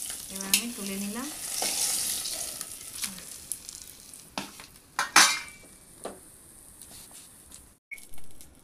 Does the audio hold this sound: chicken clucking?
no